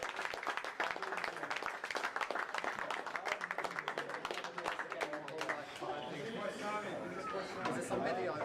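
A crowd at a Super Mario Kart championship event claps and chatters together, a dense stretch of scattered applause mixed with overlapping voices, steady and moderately loud throughout.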